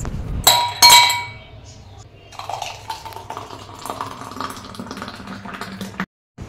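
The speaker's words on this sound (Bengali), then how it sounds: "এবার আইস দিয়ে সার্ভ করে নিলেই ব্যাস।" Ice cubes drop and clink sharply against a glass of watermelon juice, two bright impacts early on followed by lighter rattling and settling clinks, close and fairly loud.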